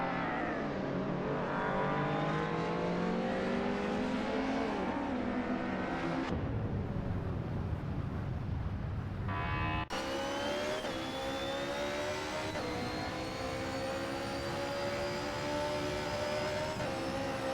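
Race cars roaring around a track during a lap race, engines loud and sustained with rising and falling pitch as cars accelerate and pass, a brief drop in intensity midway before the next close, loud pass.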